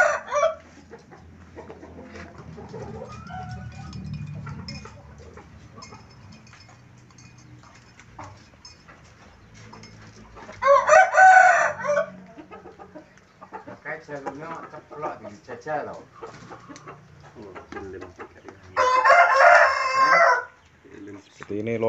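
Chickens cluck on and off at a village coop, and a rooster crows loudly twice over a quiet background, with someone talking in Indonesian between the calls.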